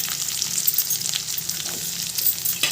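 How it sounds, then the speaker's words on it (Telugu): Chopped onions fry in a pan with crushed cumin and pepper, a steady close-up sizzle and crackle with a few stirring scrapes, no voices. "ఇప్పుడు కట్ చేసిన ఆనియన్స్ వేసుకోండి"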